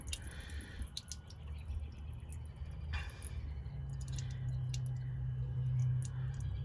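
Faint water trickles and drips steadily through a sunroof drain of a 2008 GMC Acadia SLT-1, with a few soft splashes, in an otherwise quiet space.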